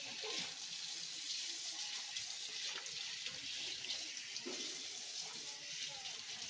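Mhashivel leaves get washed in water, with steady running and splashing water like a tap filling a basin, close and continuous, with a few faint handling sounds in the wash.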